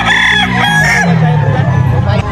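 A Gilmore gamefowl rooster crows loudly and close, one long strained call that trails off, at an outdoor gamefowl expo.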